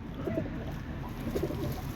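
A young tumbler pigeon coos softly twice, low rounded calls spaced about a second apart, over a faint steady background.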